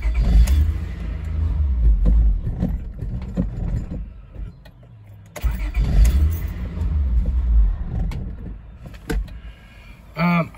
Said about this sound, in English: But now she starts up and she starts to run. And she just dies. And if I hit the gas, she dies right away.